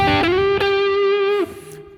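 An electric guitar with slight distortion sustains a single gritty note in a minor blues phrase, with rich buzzing overtones, briefly picked again, then released near the end.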